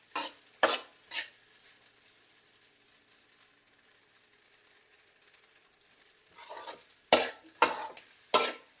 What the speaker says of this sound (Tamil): இந்த முட்டையை நல்லா கிண்டி கிளறில் முட்டையோட மனமெல்லாம் போகணும்